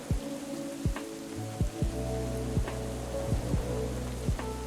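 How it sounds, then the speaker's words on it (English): Hailstorm in the video game Going Medieval: a steady patter of hard stones drumming on surfaces, with repeated low thuds about every second and a constant hum underneath, no voices. "They have a hailstorm now taking things out."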